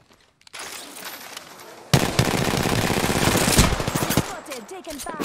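Rapid automatic gunfire in Apex Legends rattles loudly and close in a dense sustained burst after a quieter lead-in, with a voice briefly under it.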